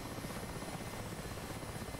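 A Mi-8 helicopter in the DCS flight simulator, heard from the cockpit with the blister window open: a loud, continuous rotor and engine drone that stays steady throughout.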